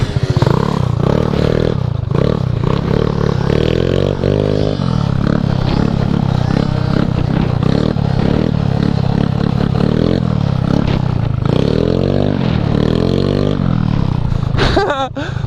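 A two-stroke Honda Elite 150 scooter engine revs loudly and close, rising and falling through repeated throttle blips as it warms up, with clattering and scraping mixed in.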